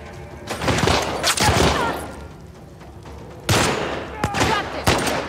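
Rapid gunfire bursts in The Last of Us Part II, loud clustered shots in two volleys with a brief lull between, no talk over them.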